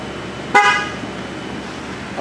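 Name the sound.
car horn honking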